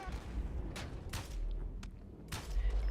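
Enemy gang members fire on the player in GTA V: a scattered volley of gunshots, several distinct cracks over low rumbling background noise, heard at a moderate distance and fairly subdued.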